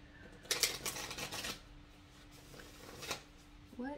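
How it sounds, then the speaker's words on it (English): A couple of short bursts of tarot cards being shuffled, riffled close by, with a quiet pause between them and faint voice at the end. "I'm gonna do one more shuffle here."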